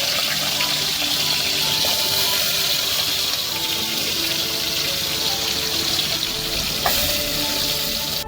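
Karela (bitter gourd) fries in a pan, a steady, loud, close sizzle that runs throughout, with faint clinks of stirring and no talking.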